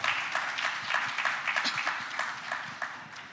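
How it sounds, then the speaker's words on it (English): An audience at a New Orleans city government event gives a round of applause: brisk, scattered claps at moderate volume, fading slightly toward the end. "let's give them a round of applause."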